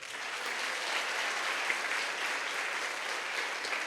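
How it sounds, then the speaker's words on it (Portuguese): A congregation at an evangelistic crusade applauds the Lord, a broad, even wash of many hands clapping at once, sustained at a moderate distance with no voices standing out. "Aplaudo o Senhor por isso."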